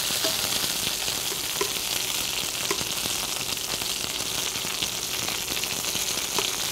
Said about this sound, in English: saute them a little bit